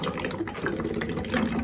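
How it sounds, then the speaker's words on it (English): Water swirls and bubbles inside a tornado vortex bottle during a kids' science experiment, a close, continuous churning gurgle with no talking. "now it's bubbling!"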